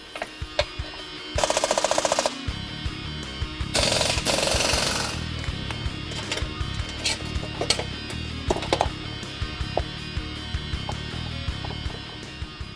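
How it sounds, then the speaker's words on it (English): A power tool, likely an impact wrench, removes the three steering rack bolts from a 2005-2014 Mustang K-member sitting on the ground, firing in a few loud hammering bursts between quieter clanks and handling noises. "we're going to move the steering rack by removing these 3 bolts right here"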